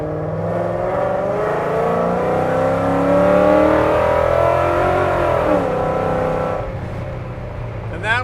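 A 1956 Ford F100 restomod pulls away under light throttle, its engine note climbing smoothly and steadily with rising harmonics before easing off, loud and close throughout.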